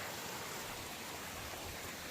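Steady rushing water from a little waterfall stream along a hiking route, an unbroken soft hiss of flow heard alone at an even level for the whole stretch.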